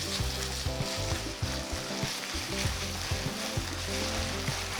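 Ginger garlic paste and green chilli paste frying in a pan for a taro root curry, a loud continuous close sizzle with occasional stirring, no talk.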